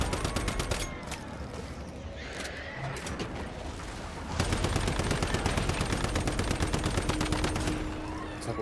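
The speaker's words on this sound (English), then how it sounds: "So we're shooting this guy right in front of us, right?" Rapid automatic gunfire in a shooter video game, sustained fast rhythmic volleys that pause briefly midway and then resume louder and denser, continuous and close.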